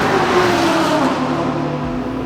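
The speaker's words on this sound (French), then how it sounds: "Essayez d'observer le départ de Lionel qui est dans la voiture." A race car engine with a sequential gearbox revs loudly nearby at a standing start during the 24 Hours of Barcelona, pitch climbing as it accelerates away, then the roar drops off at the end.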